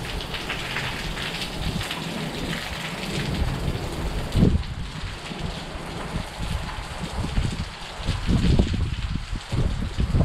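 Heavy autumn rain and a thunderstorm in Italy heard from a roof top tent camp, dense steady rain with low rumbling thunder swelling and rolling through, loud and continuous with no voices.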